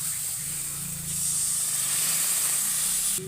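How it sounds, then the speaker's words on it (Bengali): Yogurt poured onto hot fried spice paste with tomato puree sets off a loud, steady hiss of steam that swells partway through and continues close up before cutting off. "এর মধ্যে আমি এবার দইটা দিয়ে দিচ্ছি"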